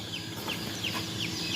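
Chicks in a crowded poultry pen on a farm, with faint repeated high cheeps and clucks roughly every half second over a steady background hum.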